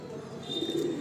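A breeding pigeon held in the hand gives a soft, low coo, close by and faint, against quiet room noise.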